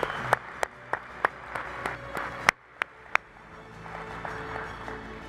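Audience applause at a recovery event marking a one-year milestone: a steady round of clapping with sharp, distinct individual claps standing out, briefly dipping before fading into softer scattered clapping.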